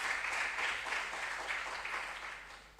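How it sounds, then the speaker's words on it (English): A quiz audience applauds a contestant at a junior science and maths regional qualifier in Ghana's Ashanti Region, a steady, fairly faint wash of clapping that runs throughout and tapers slightly toward the end. "Can we give him a round of applause?"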